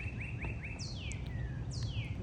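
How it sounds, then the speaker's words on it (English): Birds chirp outdoors: a quick run of short rising tweets, then two long sweeping whistled calls, over a steady low background rumble. "now the bird's chirping"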